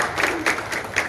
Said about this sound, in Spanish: yo quiero pedirle un aplauso para la profesora.